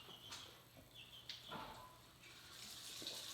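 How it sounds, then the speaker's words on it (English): A tap runs softly while hands are washed at a sink during a kitchen cooking session, a faint steady splashing flow with a few small knocks and water sounds in a quiet room. "then I'm going to wash my hands"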